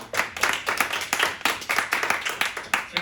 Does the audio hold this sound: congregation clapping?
yes